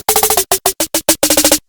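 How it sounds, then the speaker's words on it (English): Rapid snare roll in a programmed trap-style beat, a burst of crisp, bright hits fired in quick uneven clusters, loud and dry with no other sounds. "And then finally, there is a snare roll right here at the end."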